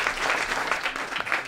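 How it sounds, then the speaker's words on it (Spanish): A comedy club audience bursts into applause at a stand-up show, a dense, lively patter of clapping that fills the short moment at close range. "pues un aplauso para ella"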